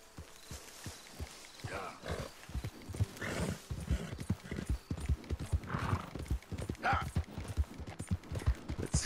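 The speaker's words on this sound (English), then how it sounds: "Oh, it's a horse." Rhythmic clip-clop of horse hooves walking on hard ground in the video game Red Dead Redemption 2, evenly paced, with a horse's whinny and snorts mixed in.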